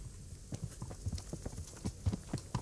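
Horse hooves clip-clop in Kingdom Come: Deliverance, a quick uneven run of soft, close thuds on the ground continuing throughout with no talking.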